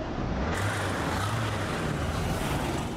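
A rough, rumbling, damaged car engine drones steadily nearby like a tractor, a low chugging noise with some road traffic around it in a city.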